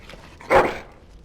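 A dog in the video game Dragon Age: Origins gives one short, fairly loud whine-like cry, alone against quiet background ambience.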